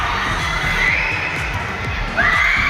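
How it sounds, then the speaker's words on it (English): A crowd of students in a school gym cheers and shouts at a basketball game, a loud, continuous roar of young voices with shrill whoops rising above it and swelling near the end. "And the crowd went wild"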